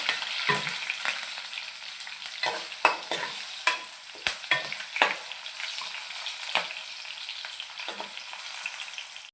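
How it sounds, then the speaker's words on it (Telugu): Onion frying in a pan of hot oil with fenugreek seeds, a steady sizzle broken by repeated stirring scrapes and clatters, close and loud, with no talking. "మెంతులు వేసాం కదా ఆనియన్ అందులో వేగుతాం"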